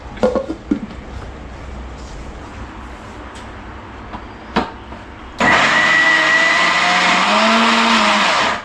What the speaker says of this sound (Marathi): चलो आतां हांव बंद करता आनी ग्राइंड करता